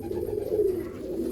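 A big Malwai pigeon coos softly and close by, one brief low rolling call with nothing else heard.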